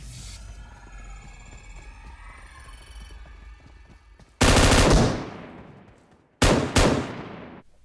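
Heavy M249 light machine gun fire in PUBG Mobile, two loud close bursts cutting in after a stretch of quieter game ambience, the first longer and the second shorter and doubled.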